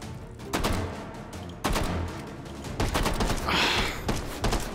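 Bursts of gunfire in the VR shooter Hot Dogs, Horseshoes & Hand Grenades on a tower custom map, several sharp, loud volleys of rapid shots in quick clusters, separated by short pauses.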